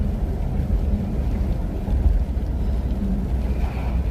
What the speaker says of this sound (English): And it's raining and it's cold.